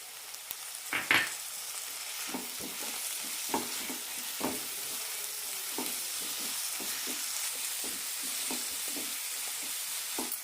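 Tomatoes sautéing in a pan with roasted ginger-garlic paste for a chickpea masala: a continuous close sizzle broken by repeated short scrapes and clicks of a spatula stirring.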